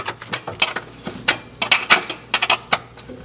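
A wrench working loose 10mm bolts on fuel and brake line brackets under a vehicle, a run of sharp metallic clicks and clanks in irregular bursts, close and fairly loud.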